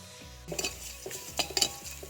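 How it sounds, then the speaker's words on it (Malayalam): A spoon scrapes and clinks against a pan while spices such as fenugreek powder and asafoetida are stirred into lemon pickle, giving soft irregular metallic scrapes and taps, close and fairly quiet with a faint background hum. "ഇത് രണ്ടും കൂടി ചേർത്തതിന് ശേഷം ഇളക്കുക."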